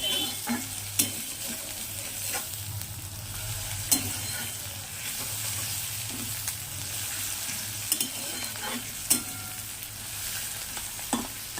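Onions fry in a pan on a Bengali home stove for a fish curry, a steady loud sizzle throughout with occasional sharp scrapes and taps of a stirring spoon against the pan.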